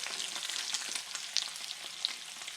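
Eggs frying fast in a hot pan at a diner-style breakfast griddle, a steady bright sizzle with small pops and crackles throughout, close and continuous with no talking.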